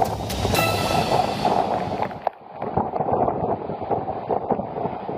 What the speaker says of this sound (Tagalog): Kita mula sa kuha ng isang netizen ang malakas na hangin sa munisipalidad ng Calayan na dulot ng bagyong Julian.